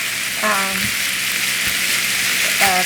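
Ground beef and onion fry steadily in a pan, a loud continuous sizzle with brief scraping strokes as the mixture is stirred and broken apart, no talking.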